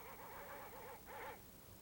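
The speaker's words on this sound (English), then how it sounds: "Those dreadful dogs." Dogs bark in the night in a 1965 film scene, a faint rhythmic run of barks and yelps carrying from a distance over steady background hiss.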